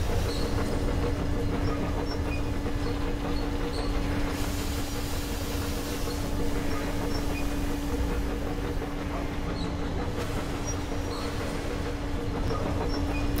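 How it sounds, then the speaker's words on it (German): A train rolls in within Metro Exodus, a loud continuous rumble with faint clicking and hiss, steady throughout with no voices. "Da ist der Zug."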